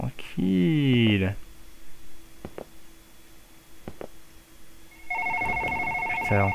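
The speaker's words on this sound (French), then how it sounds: "Putain, encore un téléphone." A telephone rings in the horror video game One Late Night. The repeating electronic trill comes loud and near at the start, then drops to a faint tone under soft taps before ringing again at the end.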